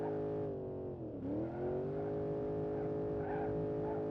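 Synthetic engine of a car in BeamNG.drive running steadily after starting in neutral, its pitch dipping briefly then rising back to a constant hum, fairly quiet.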